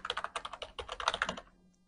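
Fast, close typing on a computer keyboard during Photoshop work, a dense run of key clicks in bursts for about a second and a half, then stopping.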